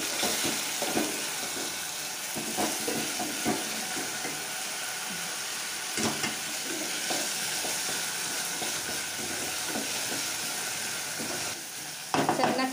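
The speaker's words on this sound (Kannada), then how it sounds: "ಚೆನ್ನಾಗಿ ಫ್ರೈ ಮಾಡ್ಕೊಳ್ಳಿ" Tomato and coriander fry in a pan for chicken curry, with a continuous soft sizzle and hiss under occasional stirring clatters, fairly quiet throughout.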